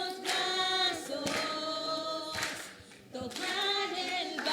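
Church congregation clapping hands in worship over loud music with singing, rhythmic claps steady under the band throughout.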